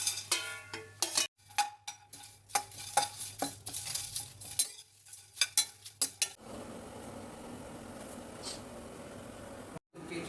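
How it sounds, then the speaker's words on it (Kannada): Whole spices including shahi jeera frying in about a kilogram of oil in a large pot for a five-kilogram batch of vegetable pulao, with scraping and clinking of utensils over a steady sizzle that settles into a continuous fry. "ಇದನ್ನೆಲ್ಲ ಒಂದು ಕಡೆಗೆ ಹಾಕಿ ನೀಟಾಗಿ ಫ್ರೈ ಮಾಡ್ಕೊಳ್ಳೋಣ"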